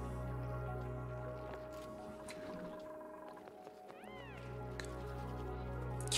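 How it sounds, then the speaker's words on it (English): A pet cat meows for attention indoors, a few drawn-out, rising meows heard near and fairly clear over a steady low electrical hum. "My kitty cats really want my attention. You guys probably hear him."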